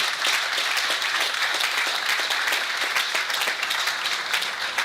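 Audience applause rings out at a Noblesville groundbreaking ceremony with Pacers Sports & Entertainment, a steady, dense wash of clapping from a crowd that holds at full strength throughout.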